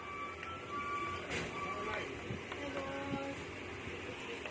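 A UV printer runs a print head cleaning cycle, giving a steady mechanical whir with faint tonal whines and short clicks from the pump and wiper, heard close and moderately quiet with no speech over it.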